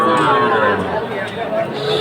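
Sahiwal breed bull calves at a cattle market in Chattogram, with a loud, close, drawn-out moo over a faint murmur of market chatter.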